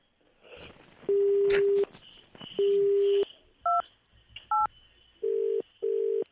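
Telephone keypad tones beep one after another, a few longer and several short, clear and close with faint background noise between them.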